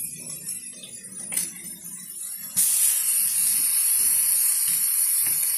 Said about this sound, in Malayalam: നെയ്യ് ഒഴിച്ച് നമുക്ക് അതിലേക്ക് ബീറ്റ്റൂട്ട് ഇട്ടു